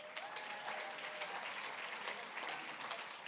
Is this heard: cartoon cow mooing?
no